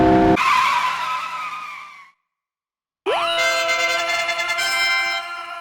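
Tires squeal and skid in the cliff race minigame of the PSP game Work Time Fun: a loud screech fades out, a second of silence follows, then a rising, sustained tonal skid.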